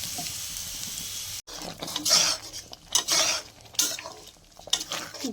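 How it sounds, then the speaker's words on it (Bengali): Onions fry in a pan on a separate burner for lentil dal, with stirring scrapes and clinks of utensil against metal over a soft sizzle, close and moderately loud, without talk. "দেখো এটাকে ভালো করে লাল করে ভেজে নেব"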